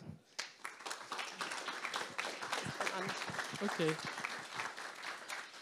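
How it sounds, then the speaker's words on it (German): Audience clapping at a live podcast presentation event, a scattered start that builds into steady, fairly faint applause from a room of listeners, with a brief spoken word early on. "Anna, bitte, Applaus."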